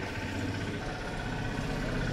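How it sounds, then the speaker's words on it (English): A small tractor drives down a road behind walkers, its engine a steady, low, rumbling drone close by with no voices over it. "There's a tractor, well, a little tractor,"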